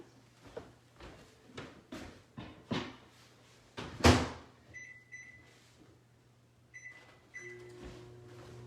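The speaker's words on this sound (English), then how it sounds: "I don't know this microwave very well yet." Household microwave oven being set to cook French fries: a few dull door and cupboard clunks, a couple of electronic beeps, then a low steady running hum starts near the end.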